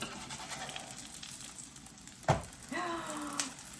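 A grilled cheese sandwich sizzles in a pan, a soft steady frying hiss with a sharp clack as it is flipped, then a brief squeaky scrape, faint overall.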